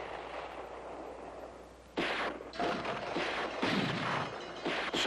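A cannon fires in a 1970 mountain setting: a sudden loud boom after a quieter lead-in, followed by rolling, bursting blasts and rumbling echoes that carry on to the end.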